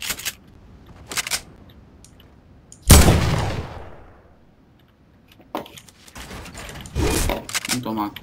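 A golden AK rifle fires in a shooting video game, with one loud burst that rings out and decays, followed by sharper later shots, mixed in with people talking.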